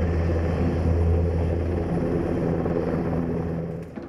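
NH-90 military helicopter of the German Bundeswehr on a medevac mission in Gao, Mali, heard as a steady, loud rotor and engine drone with low throbbing tones, holding level before easing off slightly at the end.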